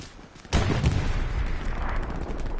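In a video game, a sudden loud burst of gunfire breaks a quiet backdrop, followed by a dense, continuous rumble of shots and booms.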